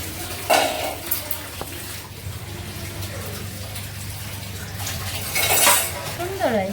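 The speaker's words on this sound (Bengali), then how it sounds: "থালা বাসন আবার মাসতেছে" Dishes and pots being scrubbed and washed under running water in a home kitchen, with clinks of plates and cutlery and steady water noise underneath, fairly close and continuous.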